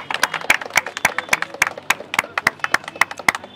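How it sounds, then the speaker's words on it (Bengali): A group of people at a Chandannagar street food stall clap together, a quick run of about a dozen sharp, close hand claps in a steady rhythm with no talking. "একটু হাততালি হবে সবাই মিলে"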